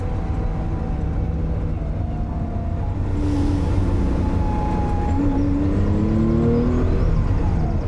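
A 1972 Porsche 911T Ölklappe drives along the road, its engine a steady, loud drone that climbs in pitch through several gear pulls, with rising whine in the second half.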